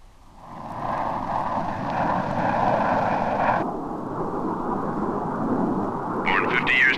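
Biplane engine droning overhead, a steady loud propeller roar that builds in quickly and holds, with brief talking near the end.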